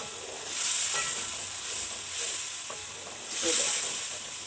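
Chana dal is gently stirred and fried in a pan, giving a soft, steady sizzle that swells in a few slow waves as it is moved, with faint scraping and little else around it.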